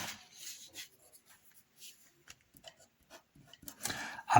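Chalk or marker scratching on a board in short strokes and taps, close and fairly soft, with quiet pauses between bursts and a louder scrape at the end; no talking.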